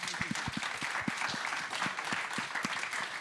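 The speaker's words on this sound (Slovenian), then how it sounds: "En aplavz." Applause from an audience at a business awards event, a dense wash of clapping with a few distinct nearby claps, steady and moderately loud throughout.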